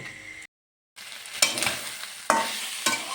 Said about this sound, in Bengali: মাংসটা কষিয়ে নিচ্ছি